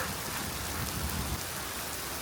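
Heavy rain pours down steadily, a dense hiss of drops drumming on surfaces with a low rumble underneath, no voices.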